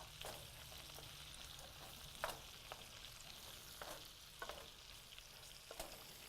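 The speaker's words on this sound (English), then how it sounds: "And it's just gonna saute." Vegetables with salt saute gently in a pan, a faint steady sizzle with scattered small crackles and soft stirring clicks, no voices.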